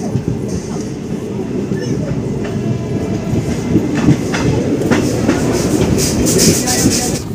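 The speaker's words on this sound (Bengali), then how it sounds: "ট্রেনটা আবার বাঁকছে," The 15721 Digha–New Jalpaiguri Paharia Express runs along a curve, heard from on board as a constant loud rumble with rhythmic clickety-clack from the wheels on the rails.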